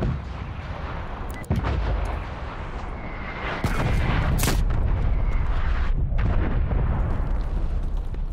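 Artillery strikes in the Call of Duty Black Ops Cold War video game set in Miami, a heavy continuous rumble broken by several sharp, loud booms and blasts.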